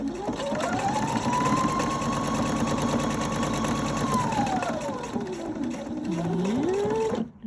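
An HV Opal 670 sewing machine runs steadily while stitching in the ditch on a quilt, its motor whirring loud and close with a continuous rapid needle rhythm that slows and shifts pitch near the end.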